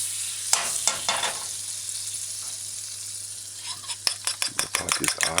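Teaspoon of butter hitting a hot pot for a vegetable cheese omelet roll, a soft steady sizzle with a few sharp clanks of a utensil and rapid scraping stirs toward the end.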